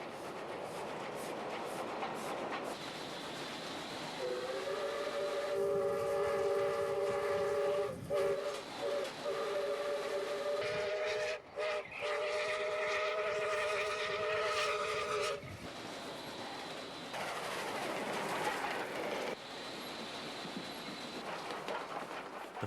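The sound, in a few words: streamlined broad gauge steam locomotive, South Australian 520 class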